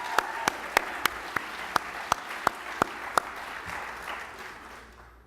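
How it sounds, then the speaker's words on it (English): Crowd applause at a local business-competition event for entrepreneurs, with a dense wash of clapping punctuated by about ten sharp, regular louder claps near the microphone, tapering off toward the end. "Let's give all those entrepreneurs a round of applause."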